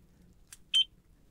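A Compustar T9 car alarm remote beeps: a faint chirp followed by a louder, sharper electronic beep, close and isolated against a quiet background.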